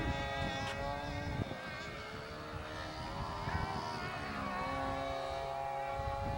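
Boat motor running steadily at a distance, a thin droning whine with shifting harmonics over a low rumble, faint and continuous throughout.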